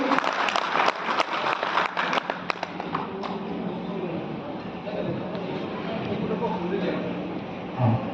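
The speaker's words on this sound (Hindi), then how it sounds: "जोरदार तालियां" Loud applause from a gathered audience welcomes a guest speaker at a hotel event, dense and steady at first, then thinning into a looser patter with chatter underneath.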